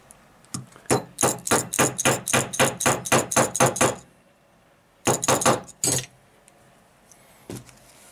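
Hammering while rehairing a violin bow: a fast run of about a dozen sharp, even taps, a pause, then a shorter cluster of four or five blows and one last light tap, close and clear.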